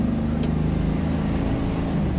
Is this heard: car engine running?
yes